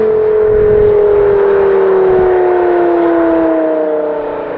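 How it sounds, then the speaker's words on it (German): A 2006 Porsche Carrera GT with its naturally aspirated 5.5-litre V10 screams loudly and close, one sustained high engine tone that slides steadily downward in pitch and fades slightly near the end, with no voices. "Das Auto geht ab wie verrückt."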